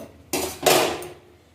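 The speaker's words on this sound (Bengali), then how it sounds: "কড়াই বসিয়ে দেবো" A metal wok is set down on a kitchen stove, giving two sharp clanks a moment apart that ring briefly and fade.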